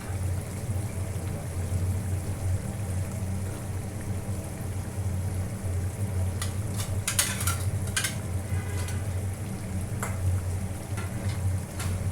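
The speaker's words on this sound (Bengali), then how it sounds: "নাড়ার দরকার হলে এইভাবে নাড়িয়ে দেওয়া ভালো, যাতে নিচে ধরে না যায়।" Koi fish curry with tomato simmering and sizzling steadily in a pan on the stove, with scattered clinks and scrapes of a spatula stirring partway through, no talking.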